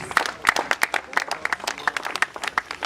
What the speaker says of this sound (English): So can we give Swan a round of applause, please?